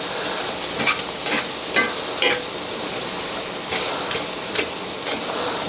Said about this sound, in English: I'm going to use my fork just to kind of stir that and get it.